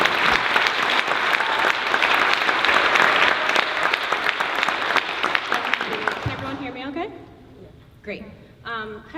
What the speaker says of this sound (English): Can we clap it up again for Camille Boggin?